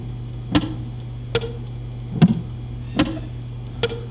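Muted guitar strings are picked with a pick and fingers, giving five dry percussive clicks spaced about a second apart over a faint hum, close and quiet, with no voices.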